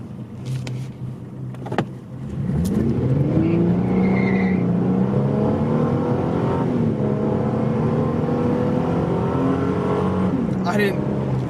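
A 2008 Ford Mustang engine comes up from idle to about half throttle, revving into a strong, steady roar that holds close by, with sliding pitch as it climbs and a person speaking over it early on.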